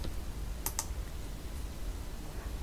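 Keys tap on a computer keyboard during Photoshop text entry: a couple of quick, sharp clicks over a low steady room hum, faint and close.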